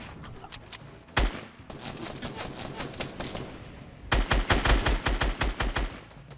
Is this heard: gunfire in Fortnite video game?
yes